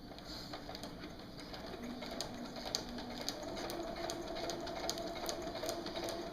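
A sewing machine stitching fabric for a wing bag runs steadily throughout, a continuous mechanical whir with faint rhythmic ticks, close and moderately loud, with no talking.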